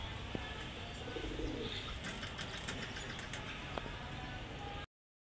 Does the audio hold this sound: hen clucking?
no